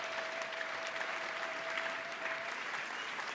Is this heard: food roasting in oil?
no